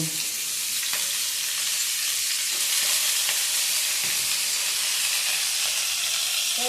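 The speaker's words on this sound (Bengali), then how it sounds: "এই যে কেটে রাখা যে ঘ্যাটকুলের ডাটাগুলো আছে এগুলো আমি তেলের উপরে দিয়ে দেব" Ghetkochu (taro-like) stalks sizzling and frying in hot oil, a steady bright crackle with occasional stirring clinks, close and continuous with no talking.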